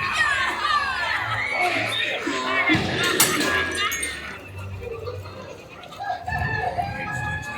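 Hens cluck and a rooster crows amid a busy crowd murmur, with voices mixed in throughout, on the Pirates of the Caribbean ride at Magic Kingdom, Walt Disney World.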